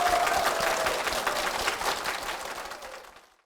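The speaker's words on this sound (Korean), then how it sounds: "큰 박수 부탁드리겠습니다" A church congregation breaks into warm applause, many hands clapping together in a thick, steady burst that gradually fades out toward the end.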